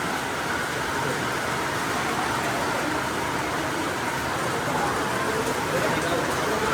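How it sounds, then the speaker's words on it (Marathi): Steady, dense hiss of rain falls continuously throughout near a temple in Dapoli, Konkan, even and unbroken, with no clear voices standing out. "पाऊस आहे."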